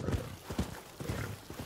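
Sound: horse hooves in video game Rise of the Ronin

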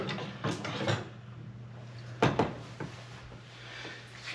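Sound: removing GE dishwasher door from its hinges

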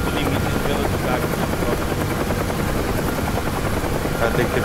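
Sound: UH-1H helicopter flying in DCS video game

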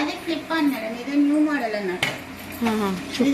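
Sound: pressure cooker lid being opened and closed

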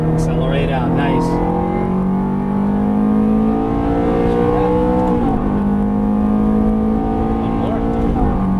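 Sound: Ferrari F430 accelerating out of a corner

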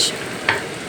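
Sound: food frying in oil

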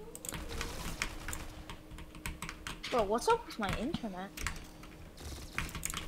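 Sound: typing on SteelSeries Apex Pro keyboard

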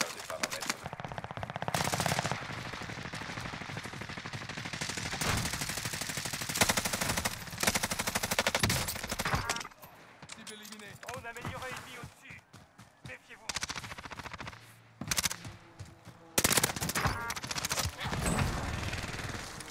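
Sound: gunfire in Warzone video game

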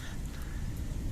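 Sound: heavy rain

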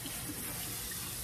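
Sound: rinsing salted zucchini under cold tap water

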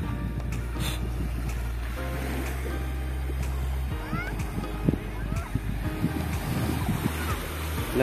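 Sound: sea waves right beside the houses

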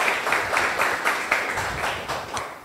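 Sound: audience applause for Carmela

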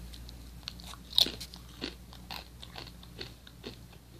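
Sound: biting and chewing crunchy snack chips

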